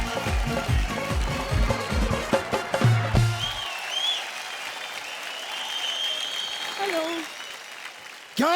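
Studio audience applause on a Hindi TV comedy show, a loud burst of clapping mixed with voices and music that fades after a few seconds into quieter room tone with faint stray sounds.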